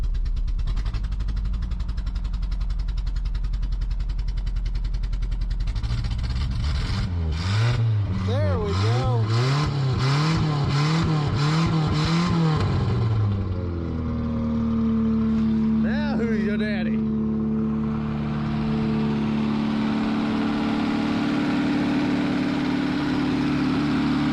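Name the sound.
Toyota pickup SR5 Hilux engine revving at full throttle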